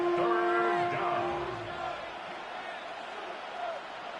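Stadium crowd in a Madden 26 simulation of Chargers vs Dolphins on PS5 roars loudly and steadily on third down, the swell easing slightly over a few seconds.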